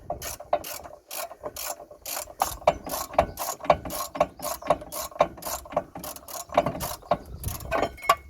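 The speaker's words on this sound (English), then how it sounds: "To undo the bottom bolt." A ratchet with a 14mm socket loosens the bottom bolt on a Kia Ceed rear brake, a rapid series of close, crisp pawl clicks in quick irregular bursts, with no talking.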